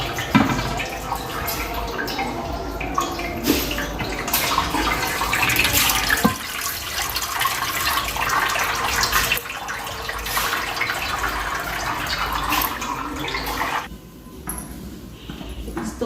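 Water drains and trickles from freshly washed wheat through a strainer into a pot in a home kitchen, a continuous splashing, dripping flow that eases toward the end.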